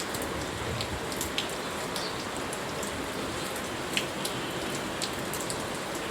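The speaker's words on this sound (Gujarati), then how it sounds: "ચલો વરસાદની મજા લઈને" Steady rain falls continuously, a dense hiss broken by scattered sharp droplet ticks, with no voices.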